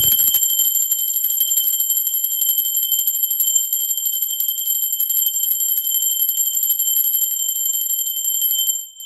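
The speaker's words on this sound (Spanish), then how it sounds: "¡Va campana!" A bright, sustained bell rings loudly and continuously with a steady shimmering tone that cuts off at the very end.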